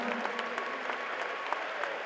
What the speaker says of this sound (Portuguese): gostaria de uma salva de palmas para esses dois guerreiros que fizeram um excelente combate